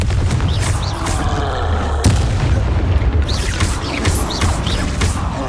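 Booming blasts of the Confringo fire spell in Hogwarts Legacy, several heavy explosive thuds with one sharp crack near the middle, set against a steady low rumble and mechanical creaks.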